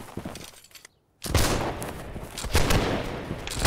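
Musket volleys roar in the Holdfast: Nations At War video game as a line battle rages, with dense crackling gunfire, a brief silent gap, then a loud, sustained ragged fusillade with scattered heavy reports.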